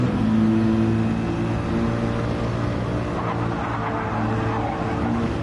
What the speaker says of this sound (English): And I hear the Mercedes right behind him.